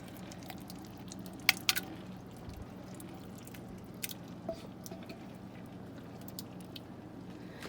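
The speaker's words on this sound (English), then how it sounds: "Now I got my chili with the beans I'm putting in here." Thick, wet squishing and soft plopping as chili and beans slide into a pot, with a few small clinks, quiet and close.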